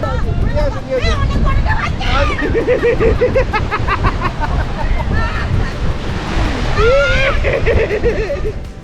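Sea surf breaking on the beach at Puri, a loud, steady roar of waves and wind buffeting the microphone, with people talking and crowd chatter over it throughout.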